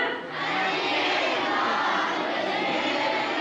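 A church congregation shouts together in one sustained, broad roar of many voices, fairly loud and filling the room after a brief quiet start.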